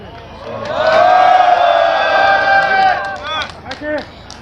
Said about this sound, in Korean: 큰 함성 부탁드립니다